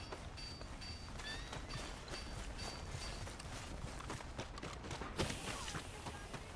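Hooves clip-clop from a horse in the video game Red Dead Redemption 2. The steps sit under a dense, steady wash of outdoor ambience and carry on at an even rhythm the whole time.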